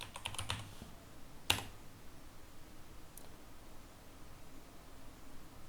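Several quick keystrokes on a computer keyboard as a terminal command is entered on Fedora Linux, a small cluster of clicks then one sharper key press, faint and close against soft background hiss.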